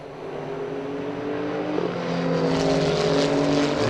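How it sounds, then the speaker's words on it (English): Renault Sport Trophy race cars at the Red Bull Ring rush past on track, a sustained loud engine roar with layered harmonic whines rising in intensity as the field comes through, no voices. "As the cars came through."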